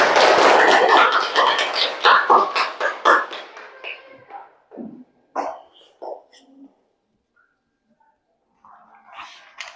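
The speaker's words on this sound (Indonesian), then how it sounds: "Tepuk tangan." Children clap their hands together in a classroom, a dense burst of rapid, loud clapping that thins into scattered claps and then fades to near silence, with a faint murmur of voices near the end.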